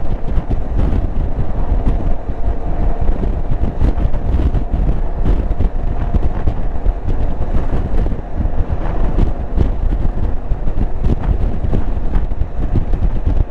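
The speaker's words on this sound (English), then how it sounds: "it is pretty windy" Steady, loud wind buffeting a microphone outdoors during a city ride, a constant low rumble with gusty rushing throughout and no voices.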